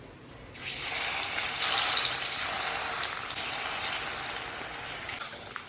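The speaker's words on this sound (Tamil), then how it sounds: "ஆற வச்ச சேனக்கிழங்கு எண்ணெயில் போட்டு எடுத்துக்கலாம்" A sudden loud sizzle erupts as pieces of elephant foot yam hit hot oil, then a steady, crackling frying hiss continues without pause.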